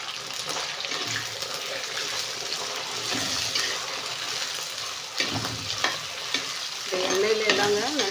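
Ingredients fry in hot oil and are stirred, giving a continuous crackling sizzle broken by several spoon scrapes and knocks. The sizzle grows louder and busier toward the end.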